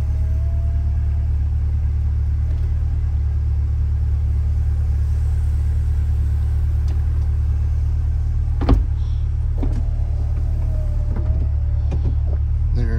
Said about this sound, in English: since it's a convertible, we'll go ahead here and put the top up